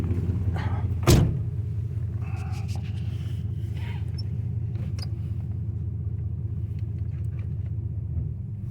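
A worn 305 Chevrolet El Camino engine rumbles steadily from inside the cab while driving around the block, a low continuous drone with a sharp thump early on and faint scrapes and rattles.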